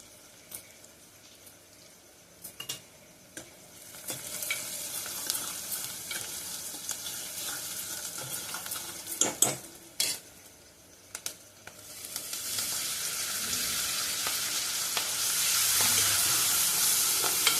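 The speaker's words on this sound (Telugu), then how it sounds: "ఇప్పుడు పొనగంటి ఆకేద్దాం. పొనగంటి ఆకు పసుపు వేసి" Ponnaganti leaves with turmeric frying and being stirred in a pan, a steady sizzle with intermittent scraping stirs that grows louder and brighter toward the end, no talking.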